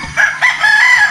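A rooster crows once nearby, a loud drawn-out call filling the moment with no talk.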